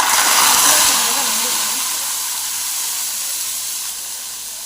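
Mustard seeds and cumin hit hot oil for a tadka while cooking chole masala, giving a loud, bright sizzling hiss that peaks at the start and then settles into a steady, gradually softer fizz.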